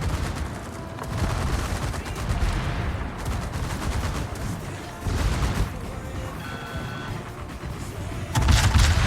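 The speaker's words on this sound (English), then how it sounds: "Everything is firing at the Varesa." Naval guns in a warship video game pounding a single target ship, with dense overlapping booms and crackling bursts rolling through the whole stretch, loud and continuous.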